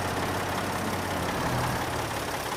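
A tractor engine in the Farming Simulator 22 video game idles with a steady, loud low rumble that holds constant throughout, with no voices.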